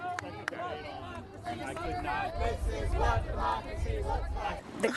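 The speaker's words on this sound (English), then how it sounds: "A crowd is starting to gather." A lively outdoor crowd with many overlapping voices, chatter and occasional shouts building into a dense, steady babble.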